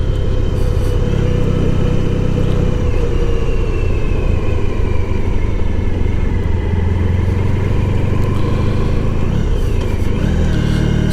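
A classic motorcycle carries its rider along the road with a steady rumbling engine and wind roar, the pitch shifting as it accelerates and changes gear, heard close and continuous.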